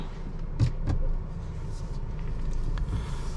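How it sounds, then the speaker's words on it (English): A 2023 Volvo XC60 B5 Plus pulls away with a low, steady cabin rumble of engine and road, a couple of soft mechanical clicks and thumps early on, heard from inside without talking. "All right, let's take this XC60 for a drive."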